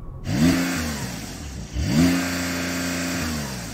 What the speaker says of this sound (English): Let's have a listen to that Porsche. That's got a soft limiter